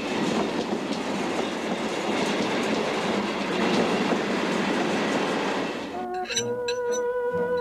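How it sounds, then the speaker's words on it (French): Trains pass each other on the approach to a station, a steady loud rumble of wheels and rail noise that gives way to clinks and squealing tones near the end. "j'aime bien les trains qui se côtoient aux approches des gares"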